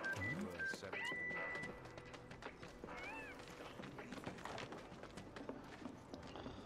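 Cats meow in Final Fantasy VII Remake, with short game-world mews amid a busy mix of footsteps, clops and ambient effects, and a voice talking over the top.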